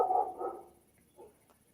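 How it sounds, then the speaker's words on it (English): A guard dog on a farm barks twice in quick succession from a short distance, loud and alone, followed by a softer brief yip. "The guard dog's fussing about something."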